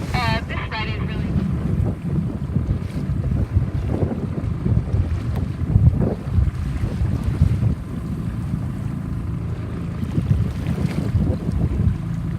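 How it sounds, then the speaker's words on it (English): Wind blowing hard over a 29er sailboat out on the water during a regatta, a steady loud roar of rushing air and microphone buffeting with water splashing beneath, continuing without break throughout. "So the wind is backed off."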